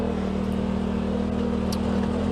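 Steady engine drone from a 2018 Polaris RZR XP Turbo side-by-side climbing a trail at full throttle, a constant mid-pitched hum held without a break, with faint wind and mechanical noise on top.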